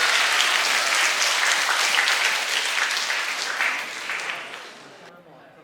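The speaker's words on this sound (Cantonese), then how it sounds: "咁我哋就俾啲熱烈掌聲嚟緊我哋獻唱嘅咁多位老師啦" A school audience applauds loudly and steadily at an evening gala as teachers come up to sing, then the clapping slowly fades out.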